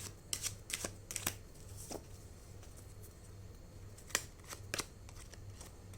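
Tarot cards being shuffled, a few quick riffling bursts spread over a quiet stretch, close and fairly soft with gaps between them.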